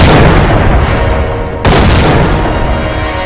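A loud, dense bomb blast in an action film, a sustained roaring rumble with a sharp break midway followed by more heavy booming.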